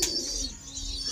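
A khatan-type pigeon coos softly and briefly at close range, a low murmuring call over faint background noise.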